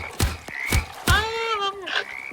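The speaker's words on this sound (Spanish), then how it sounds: "pero son ranas" Frogs croaking in the survival game 99 Nights in the Forest, a series of loud, close, throaty croaks with rising and falling calls between them.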